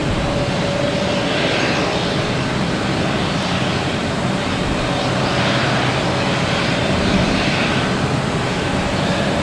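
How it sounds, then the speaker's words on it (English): A JetBlue Airbus A321 arriving from Las Vegas comes in to land at Boston Logan Airport, a continuous steady jet roar with a faint tonal whine, moderately loud and unchanging, and no voices. "We have a JetBlue A321 coming in from Las Vegas"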